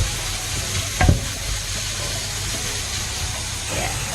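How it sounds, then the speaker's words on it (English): Ground pork browns in a pan for Thai larb moo, giving a dense, steady sizzle with one brief scrape or clack of a utensil early on. "You want to get in here and just brown up your pork."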